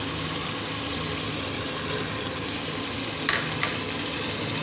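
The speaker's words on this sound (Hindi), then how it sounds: "और अब मैं इसमें टमाटर ऐड कर दूंगी" Steady loud sizzling and frying of dal gosht masala in a pan as tomatoes go in, with a couple of brief utensil clinks near the end.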